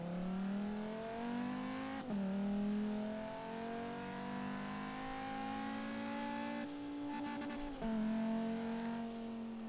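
A Bugatti Veyron fitted with a Reliant engine in Forza Horizon 3 revs in long rising engine tones, dropping sharply at two gear shifts before climbing again, loud and close.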